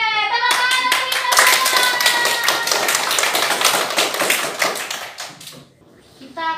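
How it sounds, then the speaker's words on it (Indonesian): Students in an Indonesian classroom clap their hands together in a quick, steady burst of rhythmic claps, loud and close, fading out near the end. "Oke, tepuk tangan untuk kita"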